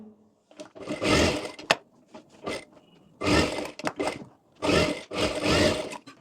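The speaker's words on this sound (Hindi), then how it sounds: "चारों ओर सिलाई लगा लेंगे" Sewing machine stitching seams around a girl's chaniya choli, three loud close bursts of rapid stitching separated by short pauses and fabric handling.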